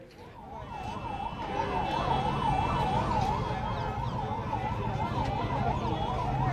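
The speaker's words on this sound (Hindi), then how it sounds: "क्योंकि एम्बुलेंस पहुंच चुकी है" An ambulance siren wails in a fast, steady up-and-down pattern over rumbling traffic and street noise at a chaotic student union election at Rajasthan University, India, fairly loud and continuous.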